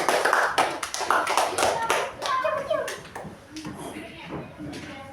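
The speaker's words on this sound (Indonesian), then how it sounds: "beri tepuk tangan untuk kelompok 3" Classroom applause for a student group, a burst of scattered hand claps in the first seconds that thins out, with children's voices and shuffling around it.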